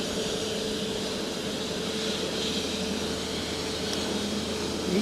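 A J-Air jet airliner departing Fukuoka Airport in Japan, its engines a steady, far-off roar and whine that holds level, swelling slightly near the end, with no voices.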